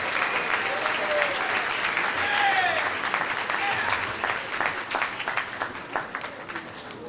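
An awards ceremony audience gives full, loud applause with scattered cheers and whoops, steady at first and gradually thinning toward the end.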